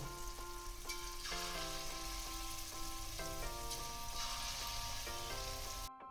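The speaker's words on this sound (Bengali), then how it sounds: "এবার বড়াগুলো এক এক করে এইভাবে ভেজে তুলে নেব" Lentil fritters frying in hot white oil, one after another, give a dense, continuous crackling sizzle, close and steady throughout, with a faint tonal hum underneath and no voices.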